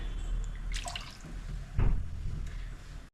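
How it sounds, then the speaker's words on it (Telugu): Cooking oil pours into a pan for frying punugulu, a short, close liquid trickle with a few splashy glugs, alone and fairly quiet. "ఇప్పుడు నూనె పోసుకుందాం అమ్మ కాలేజీలో తగినంత నూనె పోసుకోండి"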